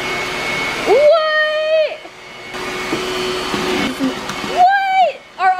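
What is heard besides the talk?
vacuum cleaner running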